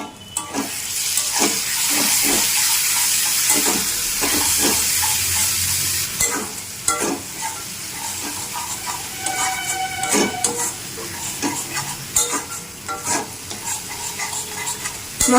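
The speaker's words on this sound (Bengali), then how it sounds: "মশলাটি কষাতে থাকবো যতক্ষণ না পর্যন্ত মশলা থেকে তেল ছাড়ে।" Masala paste of ground ginger and dried chili sizzles as it fries in oil, with repeated scraping stirs and clinks of a spoon against the pan, at first continuous, then more intermittent.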